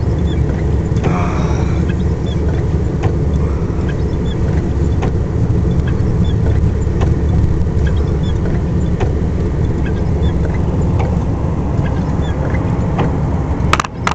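A car rolls steadily along a private driveway lined with pine trees, with a constant loud road and engine rumble from inside the vehicle throughout and a brief knock near the end, with no talking.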